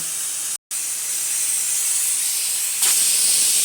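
Steam escaping from cooking masala makes a loud, continuous hiss that cuts out for a split second early on, then returns and grows louder and brighter near the end.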